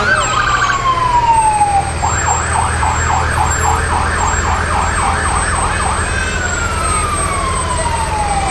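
A Morgan County Fire Department fire engine siren sounds loud and close, moving from a falling wail into a fast, repeated yelp, then back into a long descending wail. It runs continuously against steady background rumble, with no talking.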